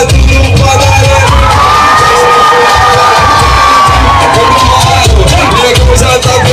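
A loud party crowd at a fifteenth-birthday celebration shouts and cheers continuously, with high children's voices and whoops blending into a dense roar close by.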